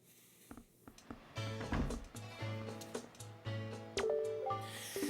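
Door opening in The Legend of Zelda: The Wind Waker, clicks and a sliding creak set against soft game music, with a brighter swelling tone near the end.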